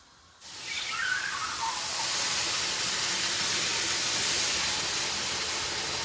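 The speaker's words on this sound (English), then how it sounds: "we're going to amp up our stove up to high because we want to boil this as quick as possible" Chicken broth on a stove turned up to high, heating toward a boil, gives a loud, steady broadband hiss and roar that starts abruptly and holds constant with no talking.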